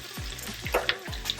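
Onions, mushrooms and zucchini dropping into a hot pan and frying, with a steady close sizzle broken by several soft thuds as the vegetables land.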